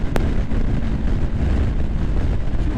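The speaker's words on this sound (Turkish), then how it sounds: "Çok rüzgar var vazgeçtim." Heavy wind buffets the microphone with a loud, continuous low rumble and roar while riding a KTM 1290 Super Adventure S motorcycle in İzmir, and a brief sharp click comes near the start.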